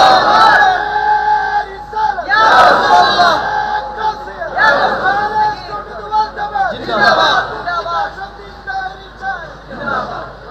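A huge outdoor religious gathering of hundreds of thousands roars Allahu Akbar in repeated waves, loud massed voices swelling and fading in several rhythmic bursts.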